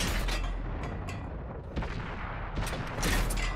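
StuG III assault gun cannon fire from a tank video game, aimed at an AT2 tank, heavy booming shots in quick succession, loud and close, one after another across a few seconds with rumbling tails.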